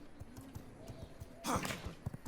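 Horse hooves clip-clopping in the video game V Rising, a steady walking rhythm of light thuds with a brief louder burst partway through.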